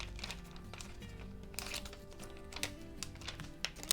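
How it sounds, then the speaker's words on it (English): Adhesive vinyl transfer tape is cut and handled up close, a quiet run of crinkling, snipping and light tapping sounds with no talk. "Just use the other piece of this transfer tape here. I'll just cut it down a bit."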